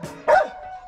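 A dog gives a single short, loud bark close by at a home with a dog house and flowers, with quiet background before and after.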